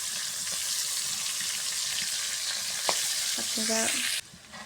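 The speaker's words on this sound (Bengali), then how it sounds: "এখন আমি ওই তেলে কিছু পেঁয়াজ কুচি দিয়ে দিব" Chopped onion hits hot oil left over from frying pangas fish, giving a loud, steady sizzle with stirring clatter and a brief spoken word, before the sound drops off abruptly near the end.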